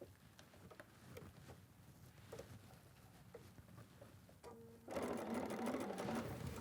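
A sewing machine stitches fabric on fusible grid, a low steady mechanical whir that starts in the last couple of seconds after quieter handling sounds.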